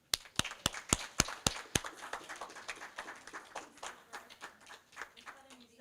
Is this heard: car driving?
no